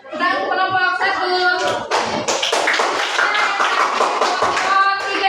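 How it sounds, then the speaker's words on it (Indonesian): A classroom group of trainee teachers claps for a presenting group, the clapping swelling into a dense, steady patter halfway through, with voices talking and calling over it throughout. "Tepuk tangan untuk kelompok 1."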